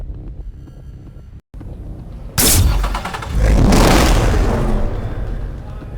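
A BMW M3 Coupe in the video game NFS: Hot Pursuit, its engine roaring up in a loud rev after a quieter stretch, then holding a strong drone, with narration playing alongside.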